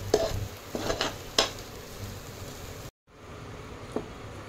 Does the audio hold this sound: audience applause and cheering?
no